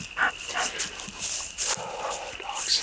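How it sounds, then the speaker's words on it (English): Dogs bark several times at a distance on rural hillside land in East Tennessee, their yaps scattered and intermittent over faint outdoor background. "Dogs."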